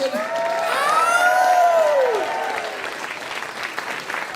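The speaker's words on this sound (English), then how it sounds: "And a big round of applause for the effervescent queen," A live KQED SongWriter Live audience applauds and cheers for a performer, with a loud rising-and-falling whoop early on over steady clapping that gradually thins out.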